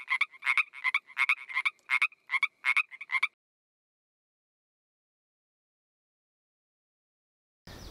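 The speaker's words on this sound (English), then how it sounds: "Five happy frogs." A run of about eight quick, bright frog croaks in a steady rhythm, up close, then silence until a short burst of noise at the end.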